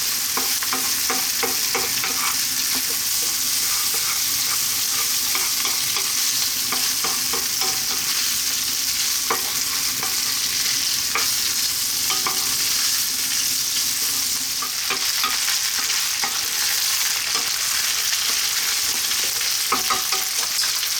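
Linguine with garlic tossed and stirred in sizzling olive oil over heat, a steady loud frying hiss with scraping stir strokes throughout, no talking.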